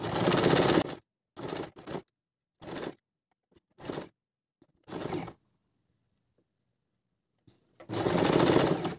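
Sewing machine running long basting stitches on a folded half-inch hem of cloth for a round neckline, in several short bursts with pauses, then a longer run at the end, close up with no talk.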